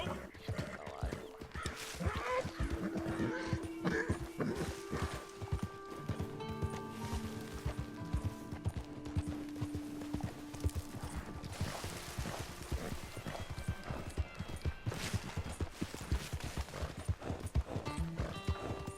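Horse hooves clip-clopping in the video game Red Dead Redemption 2, a steady rhythmic trot running throughout over game music and ambience, with a brief whinny-like tone.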